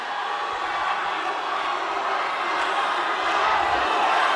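An audience at a mayoral candidates' public debate applauds, a sustained crowd roar of clapping that swells slightly toward the end.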